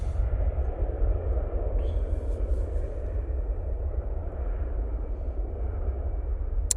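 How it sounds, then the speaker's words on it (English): An EasyJet airliner powers down the runway on its takeoff roll, a steady broad engine roar with deep rumble holding loud and constant throughout, no voices over it. "EasyJet's now on the roll."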